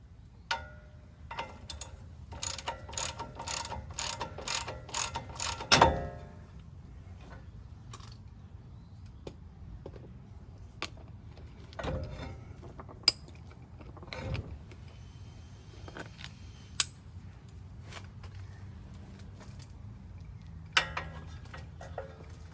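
A nut is worked off the front suspension of a 2015 Ram 1500 during a ball joint and CV axle job, with a quick run of metallic ratchet clicks followed by scattered clanks and taps of tools on metal close by.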